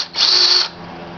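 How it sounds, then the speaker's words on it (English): A power drill bites into soft copper pipe in one short, shrill whirring burst of about half a second, then drops back to a quiet hum, with no talk. "The good thing is copper drills very nicely"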